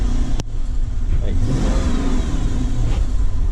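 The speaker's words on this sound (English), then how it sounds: "I forgot how quiet these new Hemis are from the factory nowadays." A new Hemi V8 with its quiet factory exhaust revs up. A mild, muffled engine rumble rises and holds after a sharp click near the start, close and fairly loud.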